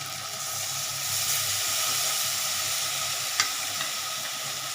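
Spice paste frying in a pan for a rohu fish head curry, a steady close sizzle and hiss with light stirring, one sharp clink of a utensil near the end, no talk.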